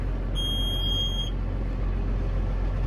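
A single steady high electronic warning beep from a Kuhn FBP 3135 baler-wrapper lasting about a second over a constant low engine-like rumble.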